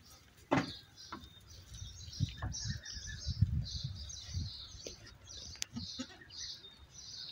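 Young goats and sheep in a new farm enclosure, with soft scattered bleats and rustling over low background murmur, alongside bird chirps.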